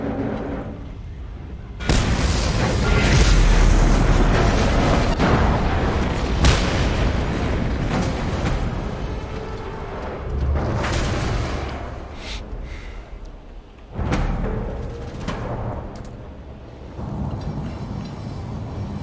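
An oil pump blows up in the Mad Max video game, a sudden heavy boom followed by a long rumbling roar, then further loud blasts and crackling bursts that fade and swell across the stretch.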